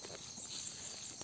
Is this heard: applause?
no